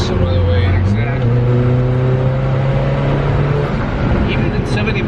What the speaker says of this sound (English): it's incredible how Alfa like pull this sound out of a 4-cylinder